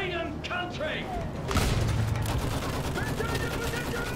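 Machine gun fire in the Battlefield 1 campaign, a dense fusillade of rapid shots that swells loud midway and rolls on steadily beneath game noise, with a voice speaking over the start.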